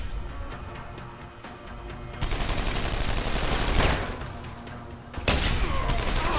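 Gunfire in the video game Deus Ex: Human Revolution, with dense bursts of shots in rapid succession, loud and close, broken by a brief lull before another heavy volley near the end.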